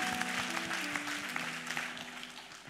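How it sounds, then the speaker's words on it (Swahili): A church congregation claps in a quick, fading round of applause for a good question, many hands pattering over sustained low keyboard tones, fairly soft and tapering off. "Tumpigie makofi kwa swali zuri."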